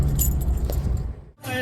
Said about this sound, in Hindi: ये फ्लैट की चाबी भी ले ली।